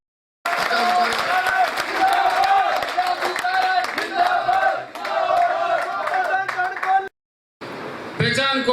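A big rally crowd breaks into loud applause and cheering, with shouts and chanting voices riding over the clapping, then a brief silent break before the noise resumes.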